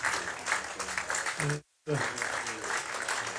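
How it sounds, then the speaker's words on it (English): Crowd applause at a Yorkshire v Durham County Championship cricket match rolls on continuously as a batsman leaves the field after a half century, with a commentator talking over it and a brief gap of silence midway. "applause as he comes off"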